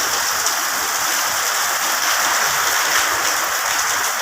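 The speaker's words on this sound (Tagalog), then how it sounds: "Grabe, ang lakas ng bagyo." Heavy typhoon rain pours steadily at a construction site, a dense, loud, continuous wash of water noise with wind roaring through it and no breaks.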